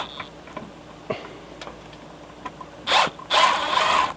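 A ratchet wrench fitted with an 8 mm socket loosens a bolt on a Ford Excursion: scattered faint clicks, then two short, close bursts of rapid ratcheting near the end.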